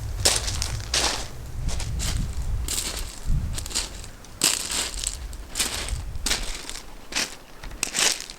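Footsteps crunching over loose stones on a walk out to an island, a steady close rhythm of scraping, grinding steps with no talk.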